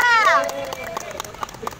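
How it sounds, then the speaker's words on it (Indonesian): Children in a Siaga scout group clap their hands in a quick rhythmic burst of sharp claps after a brief spoken phrase, with the claps fading slightly toward the end. "Tepuk tangan untuk tiga."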